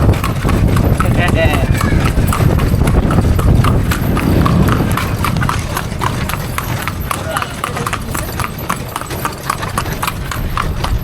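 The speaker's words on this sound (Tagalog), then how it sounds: "pinatakbo na ang kalesa. Yung kabayo yung videohan" Hooves of a horse pulling a kalesa, a horse-drawn carriage in Ilocos, clip-clop in a steady rhythm close by, while people chat over them throughout.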